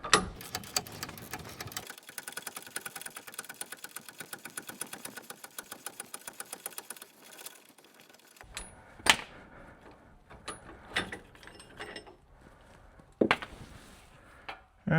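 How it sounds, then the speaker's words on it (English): A nut comes loose from a sway bar link bolt on a 2009 GMC Sierra pickup: about eight seconds of rapid, steady ratcheting clicks up close, then scattered metallic clanks and taps. "I'm actually quite surprised the nut is coming loose from the bolt."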